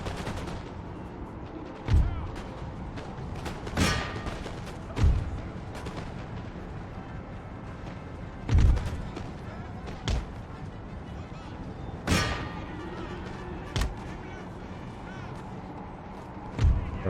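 Musket volleys and artillery fire boom across an Empire: Total War battlefield with Prussian forces, sharp blasts spaced every couple of seconds over a continuous din of distant gunfire and battle noise, no talk.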